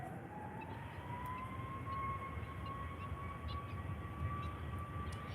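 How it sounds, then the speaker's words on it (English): Lufthansa airliner arriving from Frankfurt lands at Faro Airport, a distant whining engine tone rising slightly and holding steady over a broad, continuous roar. "another Lufthansa landing from Frankfurt"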